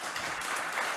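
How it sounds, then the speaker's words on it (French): A conference audience applauds, giving a brief burst of dense, close clapping that stays even and loud for its whole length. "Vous pouvez les applaudir."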